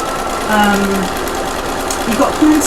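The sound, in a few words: sewing machine stitching with zipper foot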